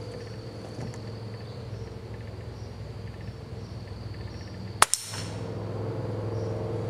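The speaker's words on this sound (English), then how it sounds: "the first round is that 29 grain CB long" A single quiet crack from a .22 CB Long 29 grain round fired from a bolt-action rifle, a sharp short snap over a steady outdoor bed of crickets and insects.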